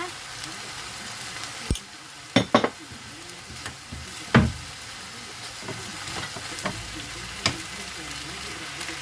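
Minced beef and mixed vegetables stir-fried in a pan with seasoning and sugar: an ongoing sizzle broken by sharp metal spatula clanks against the pan, several in quick bursts.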